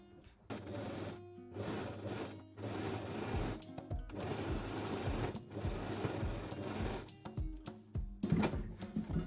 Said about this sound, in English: And then I can start sewing with 1 centimeter seam allowance.